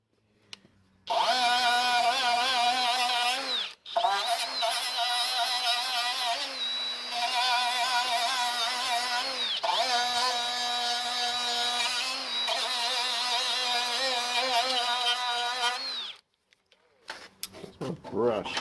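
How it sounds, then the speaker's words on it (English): An electric power tool grinds back welds on a Ford ZK Fairlane's repaired plenum chamber, a loud steady whine running for about fifteen seconds with a brief dip partway, then stopping. "Grind the welds back and do some filling with it."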